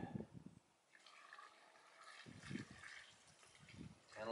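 Rainwater is poured into a bucket of wood ash with holes drilled in it, a soft, quiet splashing and trickling that comes in a few short bursts.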